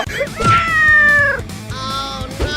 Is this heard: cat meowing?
yes